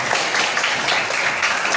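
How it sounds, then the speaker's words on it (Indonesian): Students in a classroom clap for a classmate named Ayu after she finishes reading aloud, a brief, steady patter of hands lasting under two seconds with no talking. "Tepuk tangan untuk Ayu dong"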